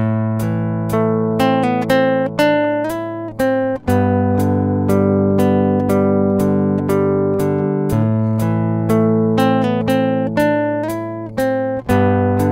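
Fingerstyle guitar plays the first two lines of a melody called theme 2 from a piece, with plucked notes over sustained bass strings in a steady, close, clean rhythm with no talking.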